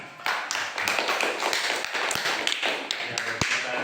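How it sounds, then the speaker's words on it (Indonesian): Classmates clap for the second presenting group in a classroom, a sustained patter of many hands with sharp individual claps standing out, fairly close and continuous for several seconds. "Ya, kasih tepuk tangan."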